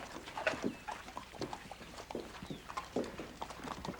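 Horses clip-clopping at a steady walk on a Western frontier town street, hooves sounding in a repeated rhythm at moderate distance, with faint background activity.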